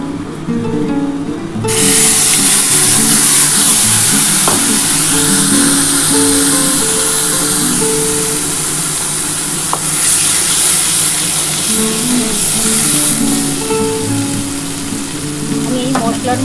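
Spices hit hot oil in a pan for a fish curry, with a sudden loud sizzle that stays as a bright, steady hiss and crackle, broken by occasional stirring taps.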